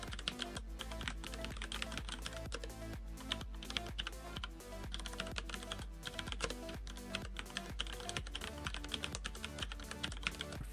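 Fingers clatter across a computer keyboard in fast, steady typing, the crisp key presses coming close and distinct with brief pauses between bursts and no talking.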